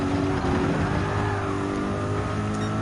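A race car engine in Gran Turismo 7 during a GT World Series Manufacturers Cup final race holds a loud, steady, high-pitched drone throughout, with the pitch shifting slightly as it revs.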